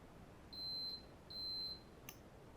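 A multimeter continuity tester beeps twice in steady high tones, each about half a second long, while probing solder joints between pins and a ribbon cable on an N64 HDMI mod, followed by a brief faint click in a quiet room.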